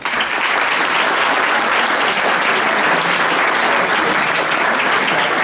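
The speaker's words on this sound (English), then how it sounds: "So please give yourselves a round of applause." JROTC cadets and guests at a Prescott military ball break into loud, thick, unbroken applause that fills the room for several seconds.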